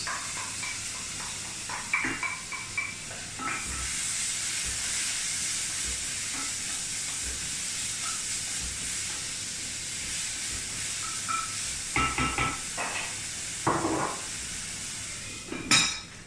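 Vinegar sizzles and evaporates in a hot pan while cooking a gluten-free chicken and tarragon pie, a steady faint hiss with a few clinks of utensils and pan scrapes, no talk.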